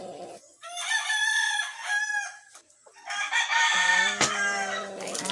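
A rooster crows loudly and nearby in a rural yard, with shorter clucking calls breaking in between two long, harmonic crow bursts, each call ending with a short pause.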